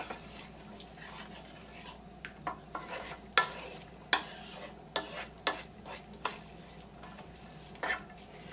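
Sweet onions from Costco sweat in a pan, with a soft continuous sizzle under repeated sharp scrapes and clinks of a utensil stirring against the pan, close up and fairly quiet.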